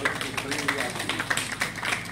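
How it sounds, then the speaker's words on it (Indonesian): An audience at an Indonesian nationalist talk claps in a steady, rhythmic beat, with distinct separate claps repeating close together and voices mixed in among them. "Kita beri tepuk tangan."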